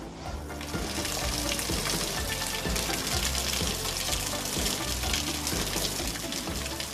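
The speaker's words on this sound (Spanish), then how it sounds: "en los recorridos del agua bajando desde el manantial escondido en lo más alto" Water running steadily down from a hidden spring high above, somewhere in Galicia, a continuous close rushing and splashing that fills the whole stretch without pause.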